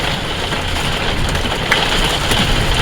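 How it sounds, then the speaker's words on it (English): Hail falling outside during a stormy day in the arid Southwest, heard as a steady, dense broadband patter that runs without a break, with a low rumbling undertone beneath it. "Sounds like there's getting to be more hail."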